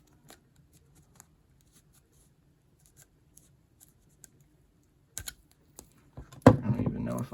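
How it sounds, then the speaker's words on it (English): Drywall knife slicing through packing tape on a large package of Pokemon cards from Japan, heard as faint scattered ticks that build into a louder burst of scraping and tearing at the end. "I use this like drywall knife to carefully slice through this tape"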